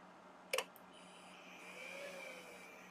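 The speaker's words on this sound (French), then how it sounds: "on a même entendu le ventilateur" A Pioneer GM-4000 car amplifier under repair switches on with one sharp relay click, then its cooling fan settles into a faint, steady whir with a thin tone that rises slightly.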